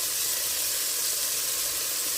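Beef frying in plenty of oil in a stew pot, a dense continuous sizzle and hiss heard up close with no talking.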